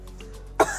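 A single sharp cough from a man bothered by a lingering cough, close and loud after a brief quiet moment, with no talking.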